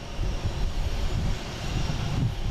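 Boeing 757 airliner arriving at Boston Logan airport, a steady low jet rumble that swells and recedes slightly, heard from a distance with no talk.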